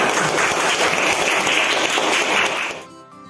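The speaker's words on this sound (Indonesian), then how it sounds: "Tepuk tangan untuk semuanya" Dense, loud applause from a school class fills the room, then cuts off abruptly near the end, leaving a quiet tail.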